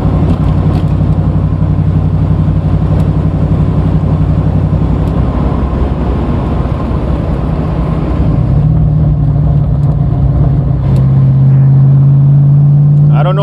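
An engine-swapped Lincoln Aviator accelerates hard, a loud, close engine drone that rises in pitch through the gears with shifts between, heard from inside the cabin.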